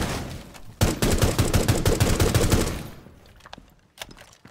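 Rapid automatic gunfire in Rainbow Six Siege: a sharp burst of about a dozen close, loud shots in quick rhythm, then a fading tail and a couple of isolated later shots.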